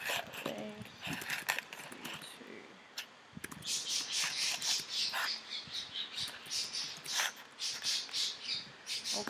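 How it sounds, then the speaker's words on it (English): A pet budgie squawks and chatters in rapid bursts close by indoors, loudest in the second half, with a person talking at times during a painting session. "the budgie is going completely crazy"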